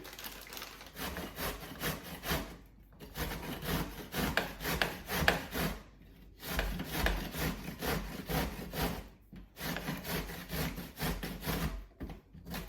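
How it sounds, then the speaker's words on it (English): A zucchini rubbed against a grater in steady, rhythmic scraping strokes, each run lasting a few seconds before short pauses. The sound is close and moderately loud, with no talking. "And that recipe calls for grated zucchini, so I'm going to go ahead and grate this one up."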